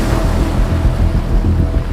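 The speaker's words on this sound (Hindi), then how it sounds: "सिर्फ हल्की सी लहरों की आवाज" Gentle sea waves wash softly and steadily onto a calm shore, a continuous low surf wash with some wind and no voices.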